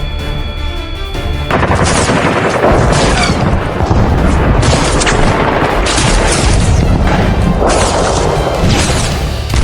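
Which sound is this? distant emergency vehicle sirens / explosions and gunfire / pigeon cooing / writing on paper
explosions and gunfire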